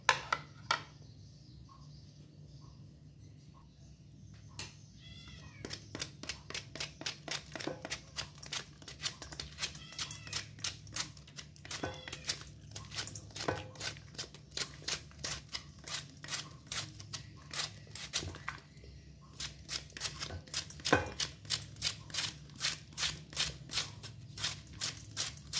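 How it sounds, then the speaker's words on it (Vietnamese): Lemongrass is grated by hand in a kitchen, producing rapid, crisp scraping strokes in an uneven rhythm that start after a few quiet seconds, pause briefly, then resume, close and fairly faint, with no talking over them. "Còn bây giờ mình bắt đầu mình đi bào cái phần sả ra để mình xay nhuyễn luôn nha các bạn."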